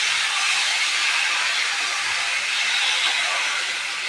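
Mushrooms dropped into a hot cooking pan give off a continuous loud hissing sizzle with a steamy rush, steady throughout with no voices.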